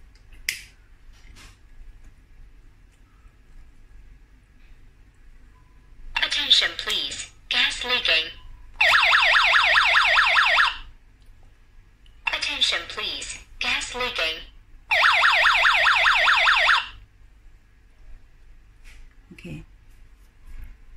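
A home gas and carbon monoxide detector, set off with a lighter during a natural gas test, sounds loud, rapid electronic beeping in two bursts of about two seconds each, close up, between stretches of someone speaking.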